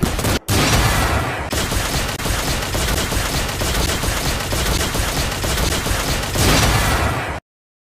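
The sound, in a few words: gunfire shooting zombies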